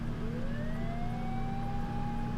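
A police siren wails in a rising sweep over steady low traffic rumble, one long tone climbing and holding, moderately distant.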